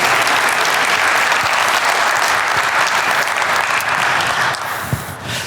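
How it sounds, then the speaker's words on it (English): Loud, sustained applause from a large conference audience, a dense wash of clapping that thins out near the end. "Your applause."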